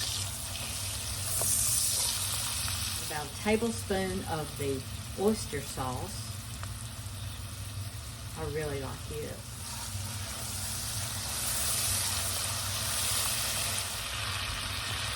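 A continuous hissing sizzle of noodles stir-frying in a hot pan runs throughout, with a person speaking briefly over it in the middle.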